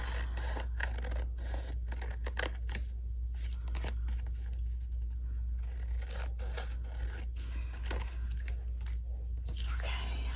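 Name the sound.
scissors cutting paper for a journal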